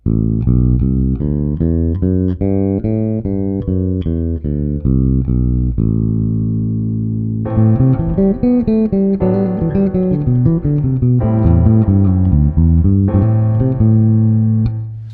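A bass plays an A Dorian scale stepwise, note by note up and down, then a more sustained, busier run of low notes; no voices.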